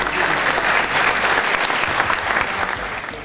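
A large audience at a Partido Verde party congress claps continuously, a dense, steady applause filling the whole moment without letting up.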